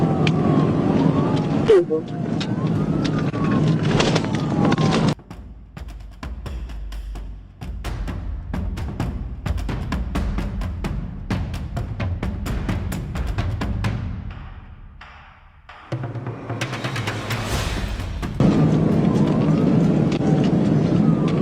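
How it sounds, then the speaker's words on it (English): Police sirens wail in the distance over steady road and engine noise during a police chase of a Dodge Challenger, the tone sweeping up and down. "Yeah, I hear sirens."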